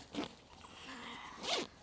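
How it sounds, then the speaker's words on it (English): A YKK zipper on a Deuter Fox 40L kids backpack is pulled open in two quick, close, rasping runs with a short pause between them, fairly quiet and alone. "Now we have 2 more YKK zippers, and why don't you go ahead and open that up."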